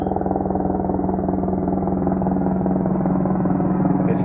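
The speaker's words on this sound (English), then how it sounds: "There's a big old helicopter." A loud, steady mechanical drone with a low rhythmic throb, like a helicopter passing close overhead, holding constant throughout with no voices.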